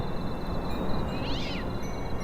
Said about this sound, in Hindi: भाई वहां कोई बिल्ली बैठी है क्या?